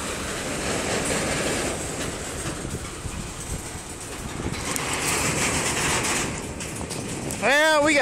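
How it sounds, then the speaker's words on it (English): A BNSF coal freight train rolls past in Effingham, Illinois with a continuous rumble and clatter of wheels on rail, then slows to a stop with brief high wheel squeals near the end, under some nearby talk. "yeah, we got a train that just stopped."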